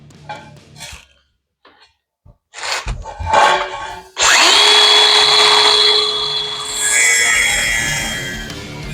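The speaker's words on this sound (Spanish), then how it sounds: "vamos a hacer un poco de ruido con la pulidora, vamos a cortar esto" Angle grinder cutting through a metal exhaust pipe for a single-to-dual exhaust conversion, a loud close high-pitched whine that starts abruptly after a few quiet knocks and handling sounds, then runs steadily to the end.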